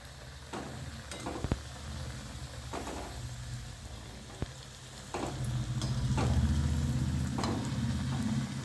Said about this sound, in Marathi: किती सुंदर झाली बघा बरं खरपूस तळली जाते वडी